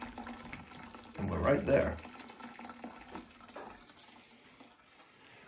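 Water from the low water cutoff of a 50-year-old Weil-McLain steam boiler drains into a sink, a short splashing gush of about a second amid quiet room noise, with someone speaking briefly.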